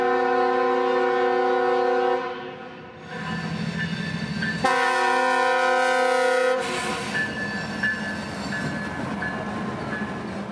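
CSX freight train 524 sounds long blasts of its horn as it rolls into Montgomery Yard, the chord blaring in several loud stretches over a steady rumble of wheels on track.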